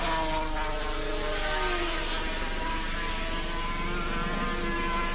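Racing motorcycles of the 1986 Swann Insurance Motorcycle Series on the final lap of a heat, a steady high-pitched engine drone carrying throughout with rising and falling whine, no talk.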